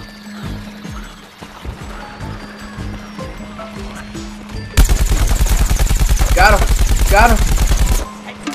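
Rapid automatic weapon fire from Plants vs Zombies: Garden Warfare on Xbox One, a loud sustained burst of about three seconds after a stretch of quieter game sounds, with a voice speaking briefly.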